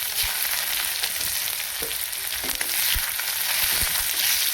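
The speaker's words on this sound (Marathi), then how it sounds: "जिरे छान कडकडले ना" Cumin seeds crackling and spluttering in hot oil, a continuous close sizzle with scattered sharp pops and a few stirring scrapes, no voices.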